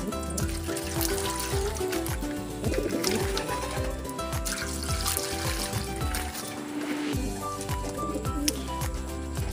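Pigeons cooing softly as they drink near water that trickles and drips, with fluttering and small movements around them, no talking.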